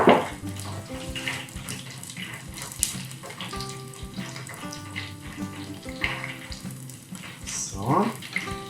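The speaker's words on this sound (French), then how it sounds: "On rince les doigts." Tap water runs into a sink while fingers are rinsed during chicken nugget preparation, a steady splashing stream with occasional clatter of dishes and a voice talking over it.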